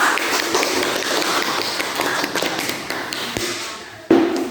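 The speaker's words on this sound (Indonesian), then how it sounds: "Oke, berikan aplaus." A classroom group applauding on cue, a dense steady patter of many hands clapping close by for several seconds, fading toward the end before a louder burst.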